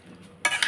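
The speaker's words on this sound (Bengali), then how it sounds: "এই ভাজা জিরে গুঁড়ো করে এখন আমি দিয়ে ভালো করে নেড়ে চেড়ে দিচ্ছি।" Beef tripe curry with ground roasted cumin is stirred in a pan: a short burst of scraping and sizzling begins abruptly partway through, close and moderately loud, with no talk.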